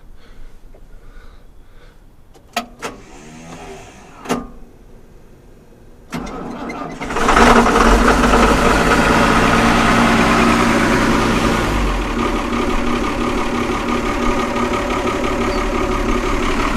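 A white tractor engine cold-starts on a freezing morning: a few faint clicks and short cranking attempts, then it catches with a loud roar and settles into a steady, rumbling idle, close by and with no talking.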